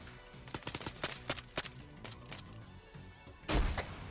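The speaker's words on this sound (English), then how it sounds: "Taking fire." Gunfire in a military video game set on Namalsk, with a rapid string of sharp shots followed by a heavier, louder blast near the end.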